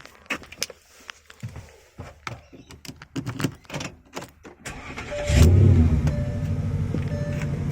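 A Porsche Cayenne S starts for the first time after a starter motor replacement: a string of clicks and knocks leads into the starter cranking, then the engine catches and settles into a loud, steady idle close by.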